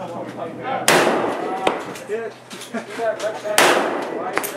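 Two sharp gunshots from a 7.62x39 carbine at an Arizona shooting range, each a loud crack with a short decay, spaced a few seconds apart while people talk throughout.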